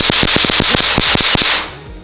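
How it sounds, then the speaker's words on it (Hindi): A battery-powered electric firecracker crackles with rapid, sharp high-voltage spark snaps in an uneven burst, loud and close, with a steady hiss underneath before it fades. "यहाँ पे कई हजार वोल्टेज का जो करंट है ना, वो इतनी तेज आवाज दे रहा है"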